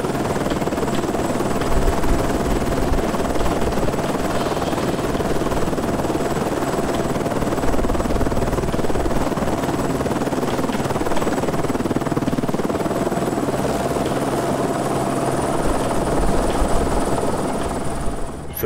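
Fireman Sam toy helicopter Wallaby flying laps over a toy fire station, a steady whirring rotor drone holding at an even loudness for the whole stretch and stopping abruptly at the end.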